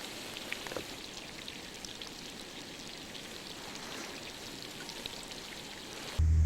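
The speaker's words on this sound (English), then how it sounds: "the ice fizzing in the background you hear is actually compressed snow" Ice fizzes and crackles as compressed snow melts in the Upernavik icefjord, a soft, continuous bubbling and popping texture like light rain, quiet and even throughout, ending with a sudden low thump.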